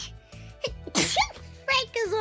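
Person sneezing, a sharp, loud sneeze burst near the middle, with voices talking before and after.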